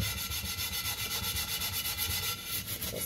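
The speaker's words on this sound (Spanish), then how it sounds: "vamos a seguirlo tallando así para ver si realmente nos funciona esto" Dirty cooking pot being scrubbed hard with a cleaning paste, a close, rhythmic rasping rub repeating several times a second, steady and uninterrupted with no voices.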